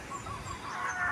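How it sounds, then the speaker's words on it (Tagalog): Farmyard chickens clucking softly at dusk as they settle to roost, a steady low murmur of fowl sounds in the open with faint bird calls, no talking. "Nahapon na ang mga manok."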